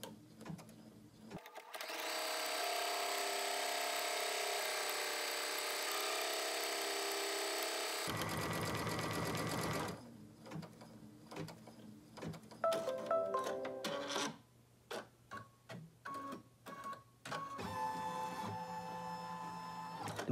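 An embroidery machine stitches a HEPA-lined face mask in the hoop, first with a steady, faint, buzzing hum and then with irregular clattering stitch bursts and brief stops.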